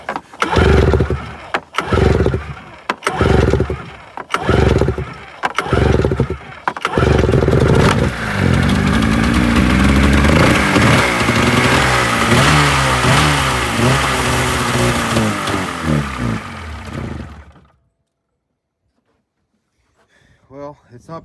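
Engine of a cheap, poorly running Polaris XC snowmobile, loud and close, first coughing in short bursts, then held under throttle in a steady rising drone before it cuts off abruptly into silence, with a brief noise at the end.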